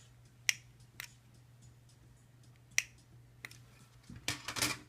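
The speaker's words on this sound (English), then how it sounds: "So I'm clicking the remote right now" Buttons on a garage door remote are pressed, giving a few faint, sharp clicks spaced irregularly over a low steady hum, with a cluster of quicker clicks at the end.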